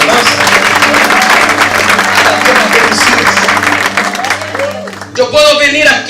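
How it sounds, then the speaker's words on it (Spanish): A church congregation claps loudly at a worship service, with bright applause layered over a steady musical hum, shouts and voices mixed in, fading toward the end as speech takes over. "Dá um aplauso ao Senhor por estas hermanas e esses irmãos da alabanza"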